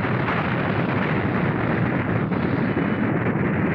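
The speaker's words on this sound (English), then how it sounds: "What exploded? The top of the mountain." Explosion blowing the top off a mountain in a movie, a sustained roaring, rumbling blast that fills the whole stretch at steady, loud level with no talk over it.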